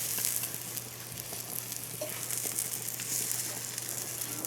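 Surf and turf sears in a hot pan, giving a steady broadband sizzle and crackle with a low hum underneath, constant and fairly quiet throughout with no talking.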